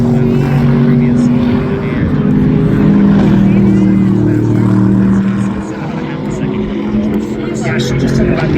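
GT race cars roar steadily around Sonoma Raceway, a loud, sustained engine drone with shifting pitch running under continuous commentary.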